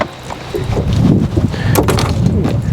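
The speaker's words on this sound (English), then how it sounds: "these are some heavy winds out of the east too" Strong easterly wind roars across open water on a rough fishing outing, a steady loud gusting rumble that buffets the microphone throughout with no talk.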